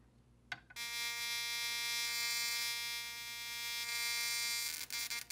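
Victor smart electric mousetrap running a shock cycle on a piece of steel wool: a short click, then a loud steady electrical buzz with a rich harmonic whine holding for about four seconds before stuttering off.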